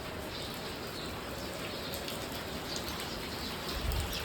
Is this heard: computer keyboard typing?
no